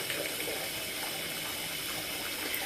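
Very hot tap water runs steadily into a bathtub for a bubble bath, a continuous close gushing rush with no pauses.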